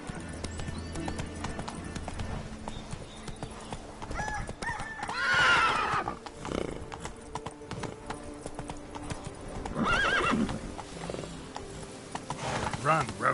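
Roach the horse galloping in The Witcher 3, a steady rapid clip-clop of hooves with occasional whinnies, under music and someone talking.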